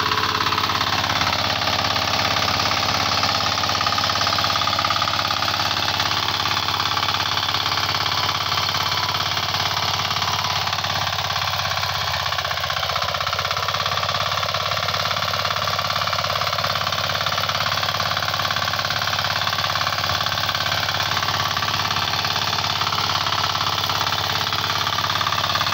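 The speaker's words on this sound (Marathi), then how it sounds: "बघा एकदम अर्ध्या सेल्फमध्ये मशीन स्टार्ट झालं मित्रांनो." A 9 hp E Agro diesel power weeder engine runs steadily throughout, a loud continuous mechanical drone with a rapid knocking pulse and no talk.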